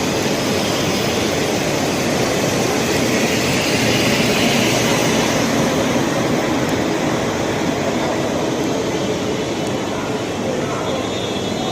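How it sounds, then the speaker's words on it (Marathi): A Kanyakumari-bound train stands at Pune railway station, its steady loud engine and platform rumble filling the air continuously without letup. "आता आहे पुणे स्टेशनला आणि एक कन्याकुमारी ट्रेन लागली आहे"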